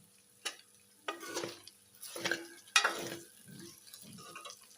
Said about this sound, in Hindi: दो से 3 मिनट हम प्याज़ों के साथ अरबी की भुनाई करेंगे।